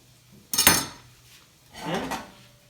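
Mint leaves being chopped with a knife on a board, heard as two short, close scraping and knocking bursts separated by a quiet pause.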